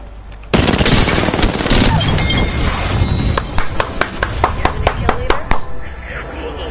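Gunfire erupts in the battle royale game Apex Legends: a sudden loud burst of rapid automatic fire followed by a string of sharp separate shots with glassy clinks, under in-game voice lines.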